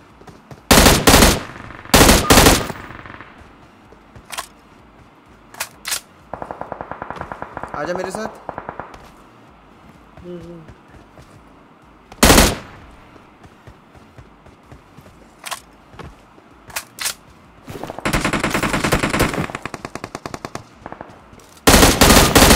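Video game gunfire from a VSS rifle and an M60 machine gun in PUBG Mobile, loud sharp bursts of rapid shots broken by quieter gaps, with a voice speaking briefly.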